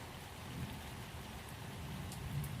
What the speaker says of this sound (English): The room grows quieter, the drizzle nearly gone now.